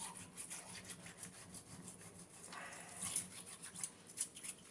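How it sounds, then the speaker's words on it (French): Aquarium circulation or return pump parts are scrubbed by hand with a brush in acid, giving quiet, rhythmic rubbing and scraping strokes at close range, with no voices. "On frotte une première fois pour enlever tout ce qui est algues, salissure"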